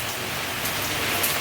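Heavy rain pours onto a road in Gujarat during Dussehra, a dense, even hiss of falling water heard close and continuous, with no voices over it.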